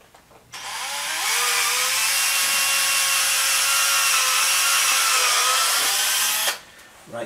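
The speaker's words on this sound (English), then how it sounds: "So yes, we're going to drill." A power drill bores a hole for a mudguard on a BM 250 trials motorcycle, one loud, sustained whining run of about six seconds, close up and alone.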